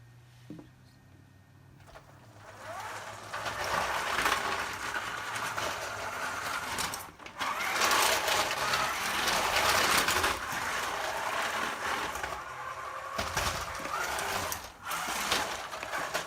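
An FRC competition robot under arcade drive runs outdoors, giving a steady mechanical whir and gear grind that swells and drops with short pauses as it moves, fairly close and loud, with no talking.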